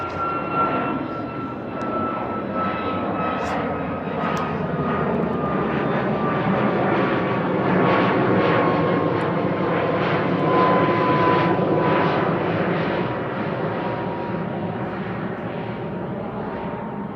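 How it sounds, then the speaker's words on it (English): A Ryanair Boeing 737 MAX 8-200 jet departs Manchester Airport, a loud, sustained engine roar that swells and slowly fades across about seventeen seconds, with no voices. "I'm going to let this 737 go"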